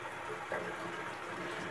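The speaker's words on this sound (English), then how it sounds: "Run some water." Tap water runs steadily from a faucet, a soft continuous hiss and splash, faint and alone.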